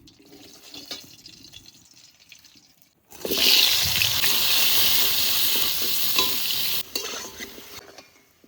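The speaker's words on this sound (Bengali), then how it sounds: "এই মাছ ভাজা তেলে আলু ভেজে নেবো" Potatoes dropped into hot fish-frying oil in a village kitchen burst into a loud, steady sizzle after a quieter start, with stirring noises and a drop in intensity near the end.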